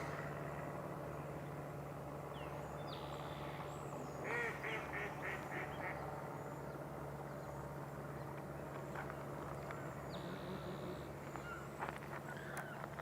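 Mallard ducks quack in a marsh, a low steady hum running underneath, while small birds such as cedar waxwings call thinly in the background.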